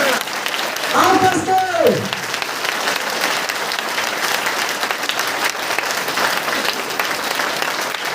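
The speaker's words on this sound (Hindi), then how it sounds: "अपने लिए ताली बजाइए।" An audience at a village meeting program claps loudly and continuously, a dense, even stretch of applause, while someone speaks briefly over it near the start.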